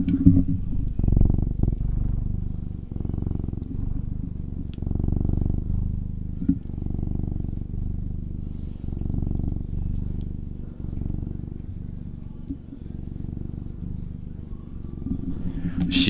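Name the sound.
cat purring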